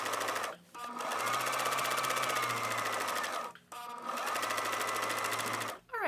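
Sewing machine quilting through the layers of a placemat, stitching in two long, steady rapid-fire runs with a brief pause between them, close and clear with no talking.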